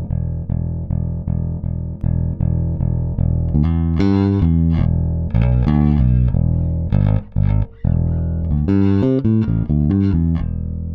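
Bass guitar run through an Xotic EWS Tri-logic bass preamp set flat, a close, loud, punchy riff of repeated low notes, then busier phrases with slides and fretted runs, steady and continuous.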